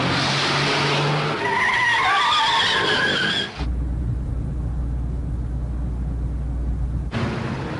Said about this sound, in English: the din of police sirens and screech of tires was greater than usual